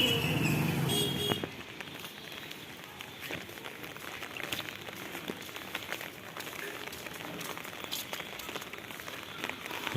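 Rain falls through an all-day downpour on a flooded, empty street on the way to market. A loud rushing burst at first gives way to steady, softer patter with scattered drips and taps, and no speech.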